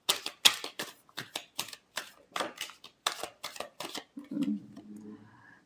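Tarot cards are handled in a rapid series of sharp, crisp taps and riffles, close and fairly quiet, ending with a brief softer rustle and a faint voice.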